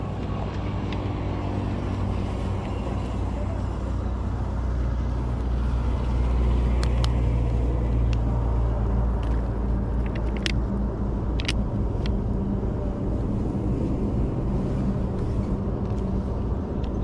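Beside a highway, a dense low rumble of passing cars and trucks rolls on continuously, loud and close at the roadside, with a few faint sharp clicks scattered through it.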